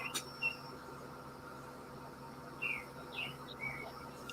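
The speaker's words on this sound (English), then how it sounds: "I hear the birds chirping." Birds chirp before sunrise in a few short, scattered tweets over a quiet, steady background hiss, fairly faint and distant.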